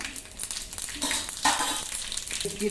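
Half a spoon of mustard seeds and a little cumin sizzle and crackle in hot oil for a black peas sambar, a steady, close frying hiss with scattered pops and a few stirring scrapes, and no voices.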